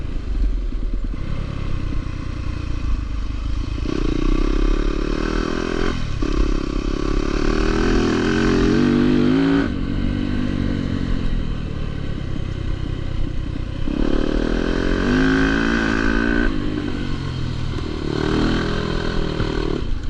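Yamaha YZ250FX dirt bike engine running steadily and loud up close, with repeated rises and falls in revs and some mechanical clatter throughout.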